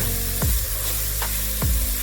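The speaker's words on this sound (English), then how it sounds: "We are frying on medium heat, remember." Chicken jollof rice ingredients fry steadily over medium heat in a hot pot while a utensil scrapes through them in a few slow stirs.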